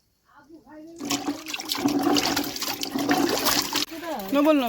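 Carrots are rinsed by hand in a basin of water, giving a few seconds of continuous sloshing and splashing, with a voice talking briefly before and after.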